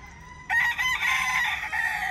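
A fighting rooster crows loudly and close by, one long sustained cock-a-doodle-doo breaking out after a brief quiet moment.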